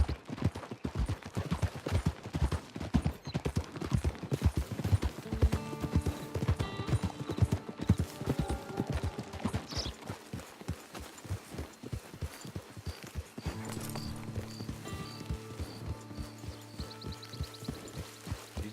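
Horse hooves clip-clop in a steady, driving rhythm while riding in the Red Dead Online video game. The hoofbeats continue throughout, close and prominent, over soft background music.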